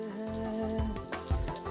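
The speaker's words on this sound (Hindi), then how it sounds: "ये बारिश थोड़ी, ये तो शावर का पानी है।" Shower water sprays in a steady, hissing patter like rain, over a soft tonal background hum, with no one speaking.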